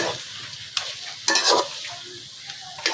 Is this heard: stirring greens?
yes